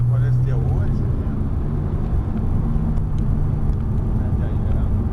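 A Porsche accelerates hard on the Montlhéry circuit, the engine a loud, steady drone from inside the car, with a voice talking over it.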